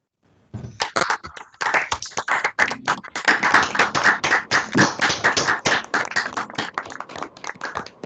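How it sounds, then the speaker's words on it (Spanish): A small online audience on an academic talk about statistical optics in soft condensed matter claps through open microphones, scattered, uneven hand claps and taps that overlap and flicker in bursts over several seconds. "acompañándome a darle un aplauso"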